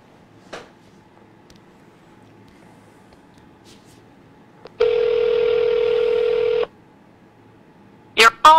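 A telephone plays a steady dialing tone lasting about two seconds, followed by a quick run of rising, beeping keypad dial tones near the end. Faint clicks and a brief sound come earlier in otherwise near silence.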